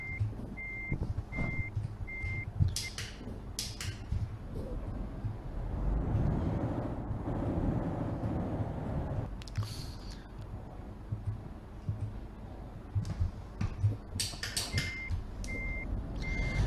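A truck in Euro Truck Simulator 2 sounds its reversing alarm, a steady series of evenly spaced beeps at the start and again near the end, over a low engine rumble that swells in the middle.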